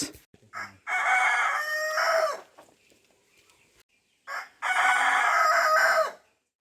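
A rooster crows loudly twice, each long drawn-out call close by, separated by a quiet pause with faint clucking.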